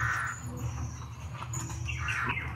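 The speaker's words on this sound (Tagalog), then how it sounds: "Ingay ng uwak mga idol oh." Crows caw noisily around an outdoor spot in the Philippines, harsh calls sounding repeatedly at mid distance over a low steady rumble of background noise, with a few thinner chirps mixed in.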